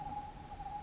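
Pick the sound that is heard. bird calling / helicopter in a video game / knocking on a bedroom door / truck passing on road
bird calling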